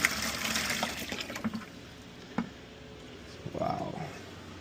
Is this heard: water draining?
yes